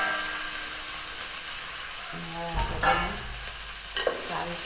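Mustard seeds and curry leaves frying in hot oil with okra, a dense continuous sizzle with steam hiss, and a couple of stirring scrapes partway through; no voices.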